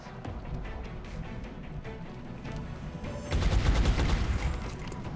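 Rapid gunfire in the XCOM: Long War video game, a dense crackling fusillade over a low rumble that swells into a louder, heavier burst about two-thirds through.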